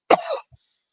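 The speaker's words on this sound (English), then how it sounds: "You got you coughing over there." A man gives a single short, harsh cough nearby, followed by a faint soft throat sound, then quiet.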